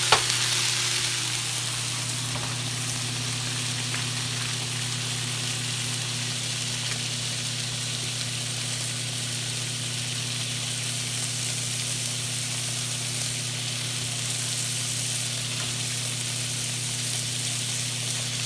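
Potatoes sizzle steadily in a hot pan, a constant crackling hiss beneath a low steady hum, with no talking.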